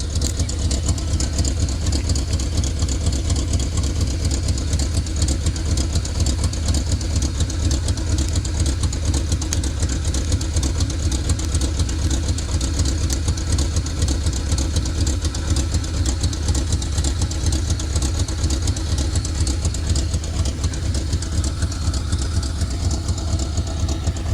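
A 1976 Holden Sandman ute's engine idles steadily for the whole stretch, a loud, close, even low rumble with a fine rhythmic pulse and no revving.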